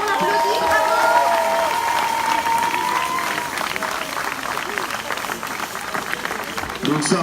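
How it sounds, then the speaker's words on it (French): Spectators at the finish line of a 130 km trail race applaud an arriving runner. The clapping is scattered and sits under an announcer's voice and a brief whistle early on. "On le félicite, on l'applaudit, bravo!"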